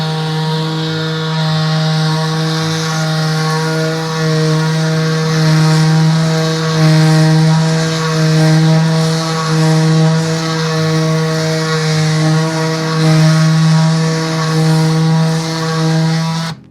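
A RIDGID 18V cordless oscillating multi-tool sanding wood on its slowest setting gives a loud, steady buzzing hum that holds without a break for about sixteen seconds, then cuts off abruptly.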